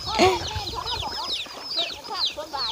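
A busy flock of chickens on a small home farm, kept alongside ducks, clucks and chatters continuously with many overlapping calls close by at steady, moderate loudness.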